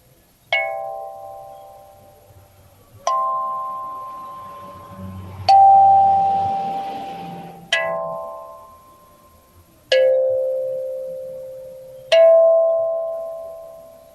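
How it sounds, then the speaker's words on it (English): Six clear strikes of a meditation bell, evenly spaced a couple of seconds apart, each ringing out and slowly fading; a soft rustle beneath one strike. "let's listen to each sound of the bell"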